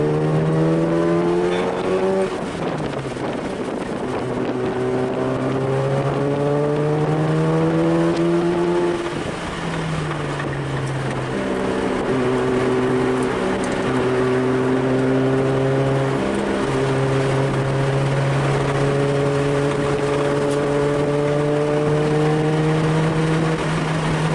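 A Mazda RX-7 FD rotary engine drones loudly and continuously from inside the car on a race track, with the pitch climbing through the gears, dropping on shifts and easing off through corners.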